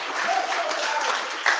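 A crowd at a rally for social housing bursts into applause, a short, dense wash of clapping that rises and stays full for under two seconds.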